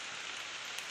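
Heavy rain pours steadily over a farm field, a dense, loud, unbroken hiss of drops hitting the ground and nearby surfaces, with no breaks and no voices.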